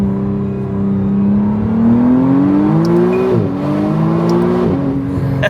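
A McLaren Artura Spider supercar engine revs close and loud, pitch climbing smoothly then dropping sharply at two quick paddle shifts, rising again between them, with no talk.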